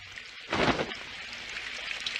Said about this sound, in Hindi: काश ये बारिश जल्दी से रुक जाए।